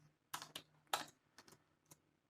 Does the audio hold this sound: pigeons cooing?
no